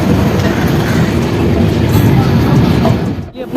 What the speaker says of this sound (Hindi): अपनी ट्रेन निकल चुकी लास्ट स्टॉपेज यानी मधुबनी रेलवे स्टेशन से पूरे 2 घंटा 15 मिनट की डिले से अपनी आनंद विहार जयनगर गरीब रथ एक्सप्रेस